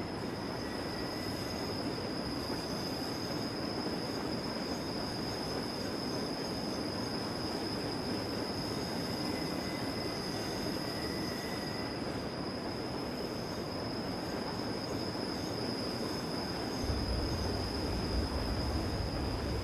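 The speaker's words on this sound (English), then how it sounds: "Basically an AI train. No, actually, this is a player train." A passenger train runs on the Albula Line in Train Simulator 2016, heard from the cab: a steady, continuous rolling rumble of wheels on rail with a persistent high whine, lasting the whole stretch without talk.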